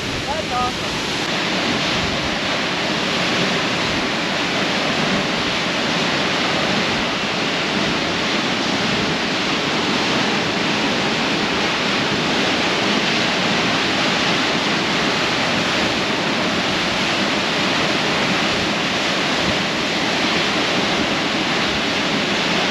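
Tall free-falling waterfall near Telluride, Colorado, throwing mist, a loud, steady broadband roar sustained throughout, with wind buffeting the microphone.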